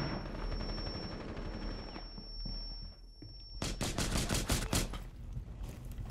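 Rapid automatic gunfire in a Rainbow Six Siege Terrorist Hunt match, with bursts of sharp close shots in the second half after quieter shuffling and footsteps.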